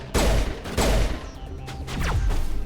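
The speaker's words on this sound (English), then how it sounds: "Why are you shooting at me?" Gunfire in the Mass Effect Legendary video game: two heavy, booming shots about half a second apart, followed by a rougher burst of weapon noise, loud and close, with no talking.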